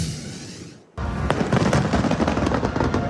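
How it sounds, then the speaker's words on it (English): Macy's Fireworks Spectacular over New York City: after a brief lull, a loud, sustained barrage of crackling bursts and booms rolls on without pause. "One of the largest fireworks shows in the nation takes place annually in New York City"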